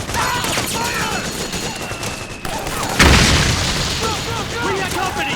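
Battlefield gunfire and booming blasts in Metal Gear Solid 4 roll on continuously, with a heavier impact around the middle and shouted voices mixed in.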